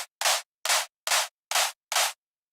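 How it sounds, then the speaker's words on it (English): Synthesized white noise in a riddim music production session, cut down in the high end with an EQ curve, plays as six evenly spaced loud bursts, each about a quarter second long with silent gaps between them. "now you can just go for the"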